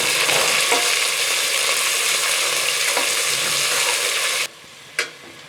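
Three large sliced onions with fennel seeds sizzle steadily in hot oil for egg biryani, a loud continuous fry that cuts off near the end, followed by a single sharp utensil clink.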